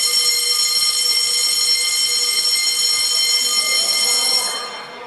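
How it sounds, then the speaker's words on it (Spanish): An alarm sounds in a parliament chamber: a loud, steady electronic buzzing tone that holds for about four and a half seconds and then fades. "Alarma."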